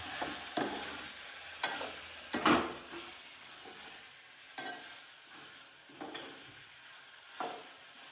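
Chopped spices being stirred and roasted in a hot pan, with soft sizzling under repeated scraping strokes of a spoon, several sharper clicks against the pan at irregular intervals, close and fairly quiet.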